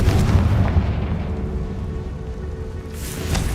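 A Confringo spell explosion in Hogwarts Legacy: a loud, deep boom with a rumbling tail that fades over a few seconds, followed by a fainter burst near the end.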